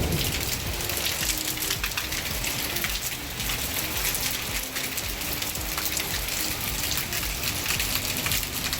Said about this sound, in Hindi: बारिश स्टार्ट भी हो गई